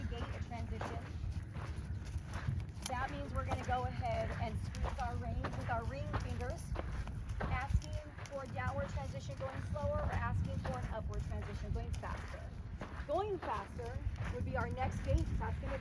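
A horse's hooves clip-clop in a steady walking and trotting rhythm during a riding lesson in an arena, moderately close and running throughout under an instructor's continuous talk.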